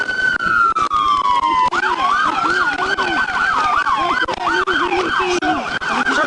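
An ambulance siren wails loud and close after a high-speed motorcycle crash, one long falling tone that breaks into a rapid repeating yelp, with a vehicle running underneath.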